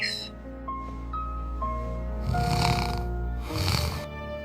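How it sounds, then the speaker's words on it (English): Cartoon man snoring in bed in an animated fairy tale, several drawn-out rasping snores with soft music playing underneath, fairly close and steady. "he was snoring peacefully."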